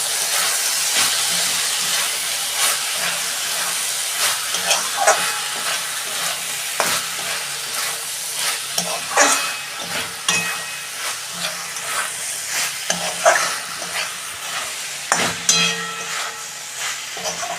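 Raw onions frying in a hot pan for an okra dopiaza, with loud continuous sizzling and hissing broken by frequent stirring scrapes and crackles, close and without speech.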